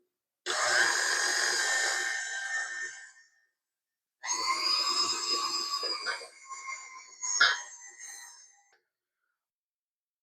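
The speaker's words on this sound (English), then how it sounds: "And then we want to mix our flour in just about a cup at a time, just gradually." Flour is worked into gluten-free jam shortbread dough, with a motorized whirring in two separate bursts and a brief clunk near the end of the second run.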